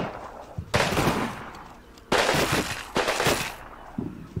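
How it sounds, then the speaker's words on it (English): A British two-inch mortar firing at retreating German troops in the WWII game Combat Mission: Rome to Victory, heard as loud, sharp bursts of gunfire-like cracks in several close, dense volleys. "Two-inch mortar shooting at some retreating Germans."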